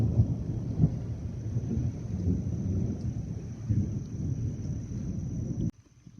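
Thunder from a storm overhead, a low, rolling rumble that swells and fades over several seconds with wind noise, then cuts off abruptly near the end.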